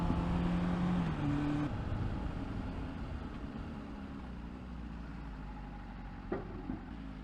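A rented Class 2A motorcycle rides through Singapore traffic, its steady engine drone and road rumble close and constant, with a brief sharper burst near the end.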